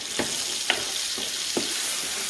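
Ground beef and butter frying in a pan, a steady soft sizzle broken by about five evenly spaced scrapes as the meat is stirred around.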